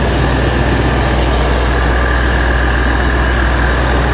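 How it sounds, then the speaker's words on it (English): A classic Bricklin car engine runs with the A/C compressor engaged, a loud, steady mechanical drone and hum with a constant whine, close and unbroken throughout. "With the compressor running, make sure you can see that the front of the compressor is engaged."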